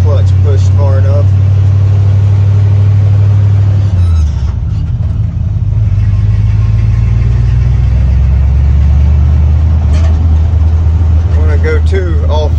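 A 1953 International truck engine drones loud and steady while driving, its low rumble dipping around a gear change into second with a slight grind, then pulling on again at higher pitch.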